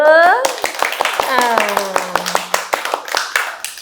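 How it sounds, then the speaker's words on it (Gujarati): A group clapping rhythmically after a story is told, sharp regular claps close by, with children's voices calling out over them. "વાર્તામાં મજા આવી ગઈ ને તો તાળી પાડી દો"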